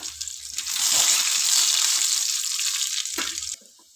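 Dry red chillies, garlic and curry leaves sizzle loudly in hot oil for a tempering for Mangalore-style cucumber sambar, a steady close frying hiss that swells and then cuts off near the end.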